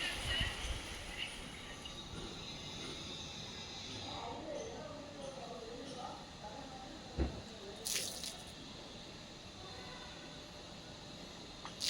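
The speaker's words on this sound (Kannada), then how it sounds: "ಇಲ್ಲಿ ನೋಡಿ ನೀರು ಎಷ್ಟು ಚೆನ್ನಾಗಿ ಬರ್ತಾ ಇದೆ." Rainwater runs and drips at a rural home, a soft trickling flow with scattered drip sounds, faint and close, and a couple of sharper splashes near the end.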